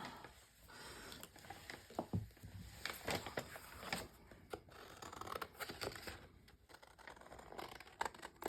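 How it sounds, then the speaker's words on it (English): Scissors snip through two glued-together paper craft pieces for a winter project, giving a run of close, crisp cuts and faint paper rustles in irregular bursts, with no talking. "Now we're going to cut them out."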